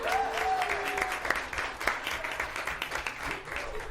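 An audience at a regular council meeting breaks into steady applause, a dense wash of many hands clapping throughout, loud and sustained with a few sharper claps standing out.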